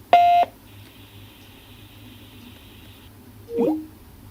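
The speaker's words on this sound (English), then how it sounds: "Please leave a message after the beep" An automated phone line's voicemail tone: a short sharp beep at the start, then a quiet hum and a brief chirping blip near the end.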